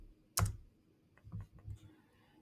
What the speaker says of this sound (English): So let's type in animation.